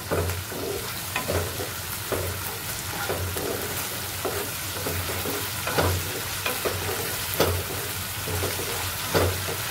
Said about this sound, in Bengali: তো এটাকে ভালো করে নাড়াচাড়া করে নিতে হবে, ভালো করে মিক্স করে নিতে হবে।